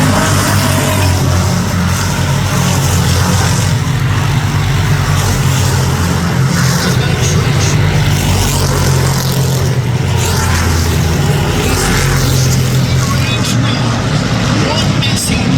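Stock cars roar around the track in a Crown Stock feature race, a loud continuous engine drone with rising and falling revs, heard under constant excited commentary.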